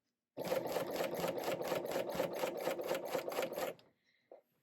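A serger runs steadily for about three seconds, finishing a fabric seam on a zipper storage pouch with a fast, even mechanical rattle up close, then stops, followed by a faint click.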